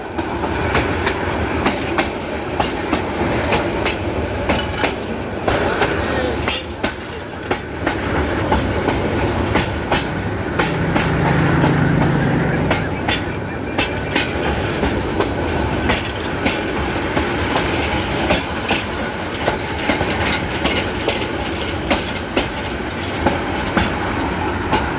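A train running on rails near Shamshernagar, a loud, sustained rumble with rhythmic clickety-clack from the wheels and a brief squeal partway through, close and continuous for the whole stretch.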